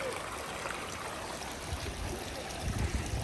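Water of a stream in Kumrat Valley rushes steadily and close by, a continuous broad wash with no voices.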